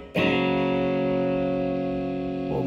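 An electric guitar chord played through a Line 6 POD HD300 amp model with all effects switched off rings out loud and sustained, slowly fading, with a faint second strum at the end and no talking.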